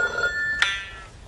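An electronic telephone bell rings in a Japanese TV game show obstacle course, a steady bright ring with a short sharp click partway through, then the ringing trails off; no voices.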